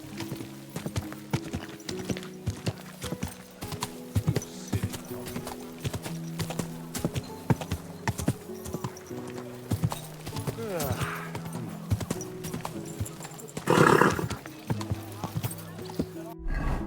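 Horse hooves clip-clopping at a steady trot in the video game Kingdom Come: Deliverance, with a sharp whinny near the end and a rider's voice speaking over the rhythm.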